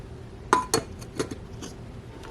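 A lid is set onto a pot of black bean soup in a small Dash mini rice cooker, giving a few sharp metallic clinks and taps close by with no talk.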